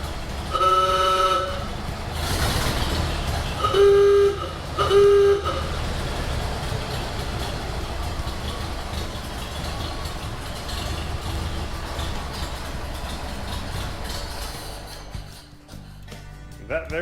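A 1930s car engine runs steadily close by, a broad rough rumble with a few short horn toots near the start before it eases off slightly at the end.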